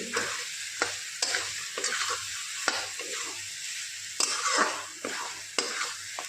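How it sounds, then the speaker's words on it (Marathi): Sukka mutton with coriander is stir-fried in a pan, a steady close sizzle punctuated by repeated scraping strokes of a spoon against the pan, with no voices. "आता आपण हे 1-2 मिनटं परतून घेऊ।"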